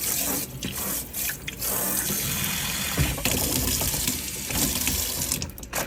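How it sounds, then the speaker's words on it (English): Tap water runs hard into a sink while an aquarium filter is rinsed under it, a loud steady gush with brief shifts as the flow is interrupted. "I just like to turn this on, give this a little rinse so it all goes down"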